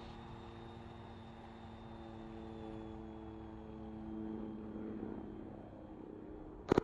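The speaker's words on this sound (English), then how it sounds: "Hearing an airplane overhead." An airplane flying overhead in Arma 3, a faint, steady propeller drone with a droning engine hum that swells slightly as it passes, ending with two sharp nearby clicks.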